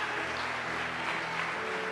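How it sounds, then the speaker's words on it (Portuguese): A church congregation applauds during a sermon, a dense, steady wash of clapping at moderate level that holds evenly throughout without breaks. "aplauda bem forte."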